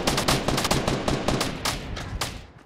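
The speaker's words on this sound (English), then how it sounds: "I tagged this man with an SMG." SMG fire in Fortnite Battle Royale, a close, loud burst of rapid sharp shots in quick succession that tapers off near the end, with no talk over it.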